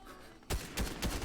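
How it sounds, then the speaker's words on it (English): Gunfire in the Fortnite video game: several loud, sharp shots after a quiet start, spaced out over about a second. "Hearing other gunshots pretty close"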